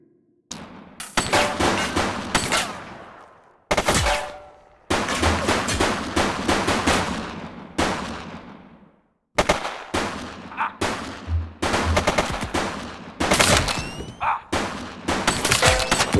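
Gunfire in a shootout in The Precinct video game: loud, close bursts of rapid shots in several volleys separated by short pauses, with sharp cracks and ringing tails.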